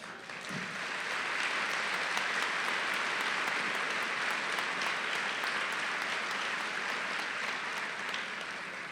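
Sustained applause from a large audience at a Class of 2014 commencement ceremony, a dense, even wash of clapping lasting about nine seconds, with no speech over it.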